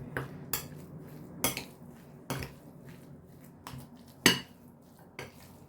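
A spoon clinks and scrapes against a bowl while eggplant stuffing is mixed, several sharp separate knocks at uneven intervals against a quiet background.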